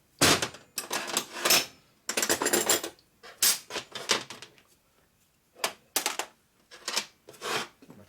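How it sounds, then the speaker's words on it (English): Metal clicks and clanks from a torque wrench tightening down the cylinders on a 1946 Harley-Davidson Knucklehead motor in a workshop, coming in repeated bursts of sharp clattering separated by brief pauses, close and fairly loud with no talking. "I'm going to go ahead and torque our cylinders down"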